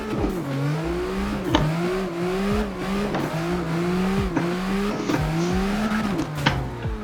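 A car drifts with steady throttle in the CarX Drift racing game, without steer assist, its engine droning and revving in repeated rising sweeps, with tire noise under a continuous, fairly loud engine tone.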